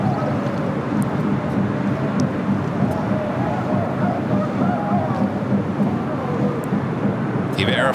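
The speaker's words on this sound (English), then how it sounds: "Eva Air Flight 12 coming in from Taipei at 777-300ER." An Eva Air Boeing 777-300ER arriving from Taipei on final approach to land at LAX, a steady broad jet roar rumbling at a distance for several seconds, blended with wind and general outdoor airport noise.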